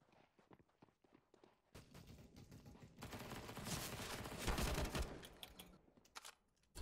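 Gunfire rings out in a Counter-Strike: Global Offensive match, first as scattered shots and footstep-like taps and then as a dense, sustained burst of rapid automatic fire at moderate loudness.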